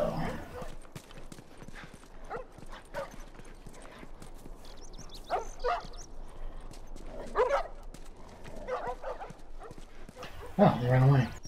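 Dogs barking in a video game inside a house, several yips and barks scattered across the clip under a player's talk, with a louder burst near the end.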